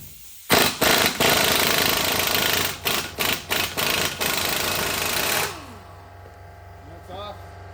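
An impact gun rattles off the 24 mm nut of a lower ball joint on a 2008 Silverado 1500 4x4 truck, loud bursts of hammering at close range that stop abruptly, leaving a quiet hum.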